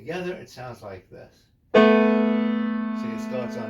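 A piano plays voice parts together as one chord, struck once and left ringing with a slow decay, following a brief stretch of someone talking, whose voice returns faintly near the end.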